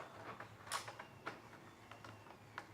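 A PS4 hard drive tray, fitted with a 2TB drive, slides back into the console: a faint string of soft plastic scrapes and small clicks, one slightly sharper knock near the start, in a quiet room with no talk.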